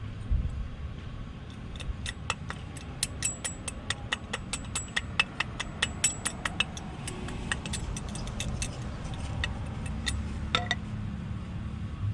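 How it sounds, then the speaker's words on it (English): Hammer claw prying at rear brake hardware on a 2007-2009 Hyundai Santa Fe, making a run of sharp metallic clinks and ticks, close and fairly steady, over a low background rumble. "I have to do the hardware with the claw side of the hammer."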